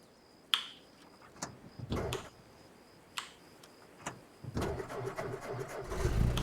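Vehicle controls in the video game Arma Reforger: a series of sharp switch clicks spaced out over a quiet hum, then an engine cranking and rumbling to life near the end.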